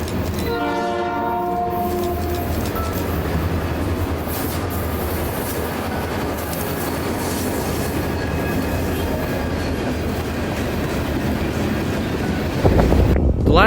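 A K&O freight train rolls past, opening with a loud multi-tone horn blast and then a long steady roar and clatter of wagons on the rails, close and continuous, with a sharp burst of noise near the end.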